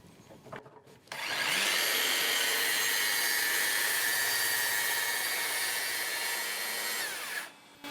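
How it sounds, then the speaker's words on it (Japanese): A circular saw with two stacked blades cuts through plywood for a carpentry workbench. A loud, steady high whine with a harsh cutting roar starts after a second of handling noise, runs for about six seconds, then drops off at the end. "ちょっとコンパネよりちょっと出るぐらいに刃をセットして切っていきます。"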